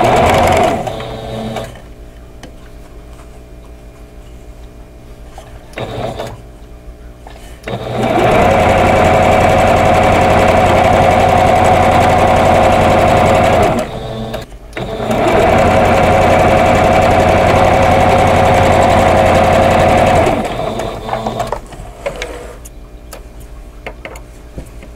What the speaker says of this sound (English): So this one I can sew with the pieced section on the top.